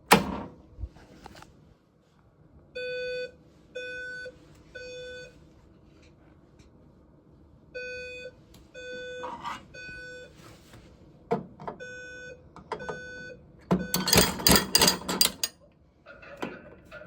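Alarm system zone test on a new installation, with bursts of repeated electronic beeps in short rhythmic groups, pausing and resuming several times, then a loud clattering burst near the end; faint background noise between.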